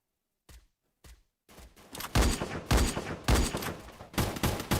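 Gunfire in an Aztec pro scrim video game match: a couple of isolated shots, then a rapid run of loud, dense volleys and repeated bursts with no talk.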